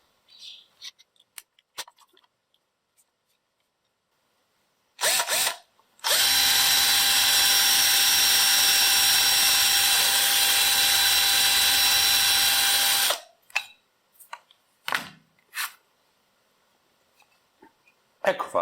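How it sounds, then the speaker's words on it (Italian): A cordless screwdriver spinning a brush bit grinds rust off an old charcoal-heated clothes iron in one sustained, loud whirring burst lasting about seven seconds, bracketed by brief clicks and handling knocks. "Adesso con avvitatore e spatola vado a pulire la ruggine rimasta"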